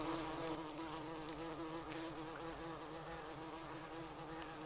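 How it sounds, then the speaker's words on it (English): Bees buzzing busily outdoors at a woodland tent camp, a steady, fairly loud insect drone with overlapping wingbeat hums continuing throughout, no voices. "The bees are busy."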